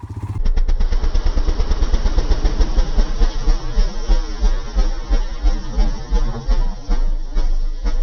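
A motorcycle engine runs loud and close while its rear wheel spins on heavy snow and ice on a mountain ride in North Sikkim, a steady throbbing roar with rapid pulsing that holds throughout.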